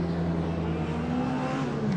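Race cars leave the pits at the Thruxton circuit in a steady, loud engine drone with a continuous whirring hum. Several motors blend together close by, with no break over the two seconds.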